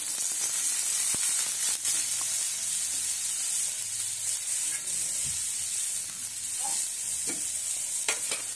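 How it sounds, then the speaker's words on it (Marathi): Onion and tomato roasting on a flat iron tawa give off a steady, close sizzle that runs through the whole stretch, with occasional scraping taps and light stirring noises on top. "ह्याच तव्यात आपल्याला कांदा आणि टोमॅटोही भाजून घ्यायचा आहे"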